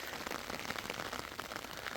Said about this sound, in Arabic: امطار الخير اللهم بارك، الحمد لله على هاد الامطار.